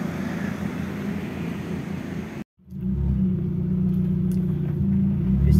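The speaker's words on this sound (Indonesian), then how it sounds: "Yuk kita test drive Daihatsu Verosa tahun 1995, pajak jalan, plat H" A 1995 Daihatsu Feroza's engine rumbles steadily on a test drive, loud and low, with a brief dropout partway before the drone resumes and slightly swells.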